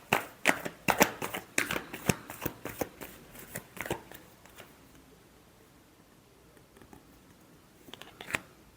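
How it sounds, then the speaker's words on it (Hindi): Tarot cards being shuffled in a quick series of crisp riffling slaps and flicks, dense for about four seconds, then quieter before a couple of final snaps; no talking. "last shuffle"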